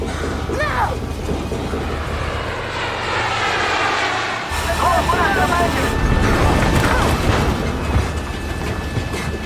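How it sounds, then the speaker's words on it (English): An airplane engine drones loudly in flight, a continuous roaring hum with a brief dip partway through, while voices speak tensely over it. "Tell the pilot to land the plane."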